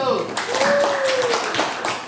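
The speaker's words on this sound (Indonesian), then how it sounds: "tepuk tangan dulu untuk kelompok 1" A classroom audience claps for a group of students, with dense, fairly close clapping throughout and voices talking over it.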